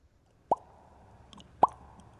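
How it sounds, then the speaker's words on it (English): Two hollow, springy pops about a second apart from a silicone pop-it fidget toy being pressed, close and clear, over quiet background. "This is the sound of a poppet toy."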